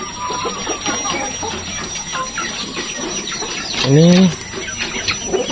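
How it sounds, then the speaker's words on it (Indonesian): Chickens in a coop cluck amid background voices, with one loud, clear cluck standing out near the end. "Saya punya, ya lumayan lah ayam di kandang ini."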